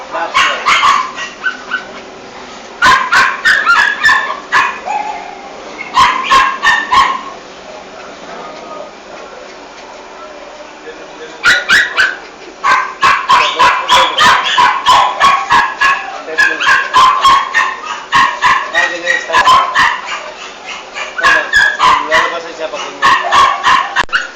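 A dog barks and yips in repeated loud bursts close by, with whimpering between, while people talk over it throughout.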